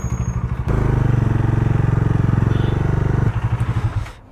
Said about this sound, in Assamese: বাইকখন পাৰ্কিং কৰি দিওঁ